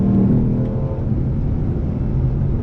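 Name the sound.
2020 Lexus RC F driving on race track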